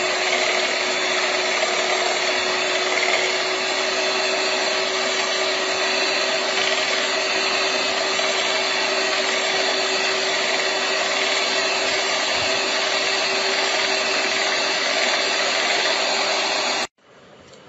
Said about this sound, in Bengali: এটি একটি ইলেকট্রিক বিটারের সাহায্যে বিট করে নেব।